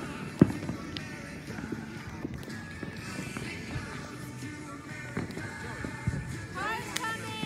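Fourth of July fireworks go off outdoors in scattered pops and crackles, with a sharp bang near the start, while people chat nearby and footsteps shuffle.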